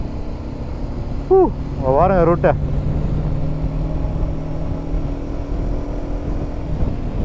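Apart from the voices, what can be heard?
road traffic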